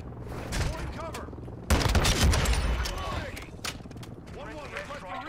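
Automatic weapon fire from Call of Duty: Modern Warfare online 6v6 play, a loud burst of rapid shots with scattered further pops, under a player's voice.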